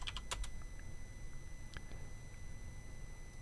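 A few quick, light keystrokes clatter on a computer keyboard as a short command is typed, a brief burst of close clicks followed by a couple of isolated taps over a faint background hum.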